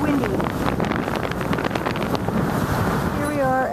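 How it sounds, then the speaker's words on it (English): Strong wind buffets the microphone aboard a boat running eastbound on the St. Lucie Canal after leaving Lake Okeechobee, a steady roaring gust noise with water rushing beneath it and no pause throughout. "It's very windy."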